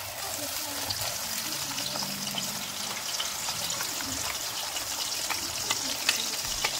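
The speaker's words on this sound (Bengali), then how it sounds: "তেলটা গরম হয়ে গেছে। এবার আমি এখানে দিয়ে দেবো, এই যে এখানে আছে টমেটো আর পেঁয়াজ বাটা" Tomato and onion paste frying in hot oil in a wok, giving a steady, fairly quiet sizzle and crackle that runs unbroken throughout with no talking.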